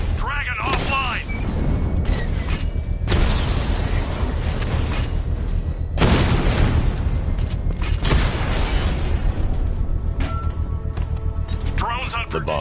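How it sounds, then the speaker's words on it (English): Bomb explosions in the video game Batman Arkham Knight, a series of heavy booming blasts and rumbling debris that fill the scene, with dialogue spoken over them. "I can use the power winch to trigger a controlled explosion."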